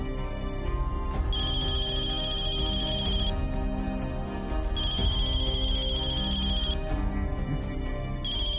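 A phone ringtone plays in repeated bursts, a bright electronic tone over a busy musical background, ringing steadily and loudly throughout.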